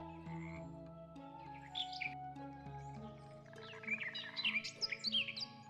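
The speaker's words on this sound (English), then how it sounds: "The bird just makes bird noises." In the video game FoxTail, a bird gives short bright chirps, first a brief pair and then a quicker, busier run of tweets, moderately loud over soft sustained game music.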